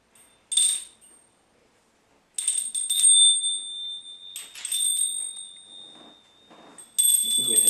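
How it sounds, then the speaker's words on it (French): Small Tibetan bells hanging from the ends of strings of different lengths ring out in several bright, clear strikes, each one trailing off in a long, shimmering decay, close and fairly loud against a quiet room. "Vous pouvez vous apercevoir qu'à chaque extrémité des cordes, il y a une clochette."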